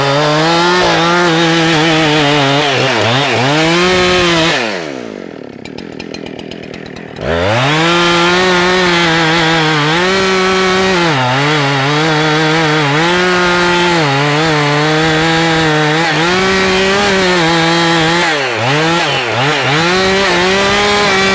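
A chainsaw felling a tree trunk roars up close, its engine revving and bogging as the chain bites the wood, briefly dropping to a low idle midway before surging back into a sustained cut.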